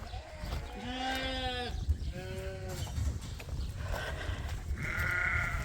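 Sheep ewes bleat several times at close range, with a few wavering calls from more than one animal over a low background rumble.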